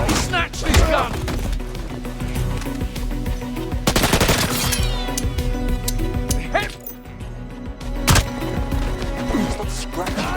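Gunfire from a picked-up gun in the 007 First Light video game, dense rapid bursts of shots crackling over a busy game soundtrack with sharp peaks around a few points.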